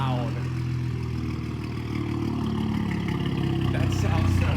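A B9 Audi S5 fitted with a Carbnlab Motorsport decat downpipe settles into a deep, steady, throbbing idle, close and continuous, with a slight rise in rumble near the end.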